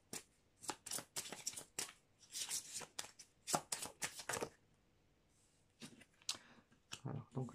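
Oracle cards are shuffled by hand in quick bursts of crisp, papery riffling and slapping, close and fairly soft, broken by short pauses between rounds.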